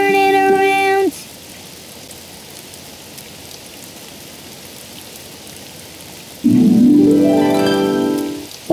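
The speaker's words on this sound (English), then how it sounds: "Oh, it's raining outside." Steady rain hisses in the background, a broad even wash of falling water, briefly bracketed by tonal musical sounds at the start and end.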